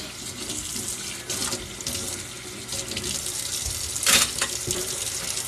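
Kitchen sink tap running steadily while dishes are washed, a continuous gush of water with occasional clinks and splashes, close and moderately loud.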